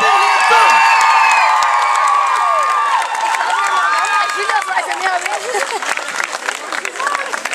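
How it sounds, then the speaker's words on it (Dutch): An audience at a Dutch live show applauds and cheers for the performers: a dense, loud wash of clapping with whoops and shouted voices, steady at first and then thinning into scattered claps and calls. "Dames en heren, nog een geweldig applaus voor Luc, Rosa,"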